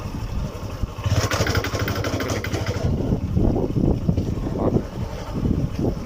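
A motorcycle engine runs in gear during a beginner riding lesson, a steady loud drone with wind rushing across the microphone and the pitch rising and shifting as the bike moves.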